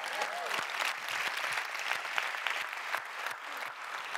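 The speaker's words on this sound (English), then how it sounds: "Can we clap for that?" An audience at a talk claps together in a continuous, fairly close round of applause, with individual sharp claps standing out and a faint murmur of voices underneath.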